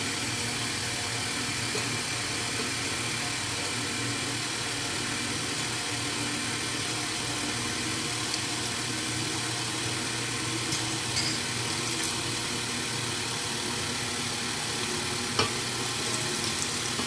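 Electric mixer running slowly through yellow cake mix with water, oil and two eggs, a steady even whir that holds without a break throughout, close by and moderately loud with no talking.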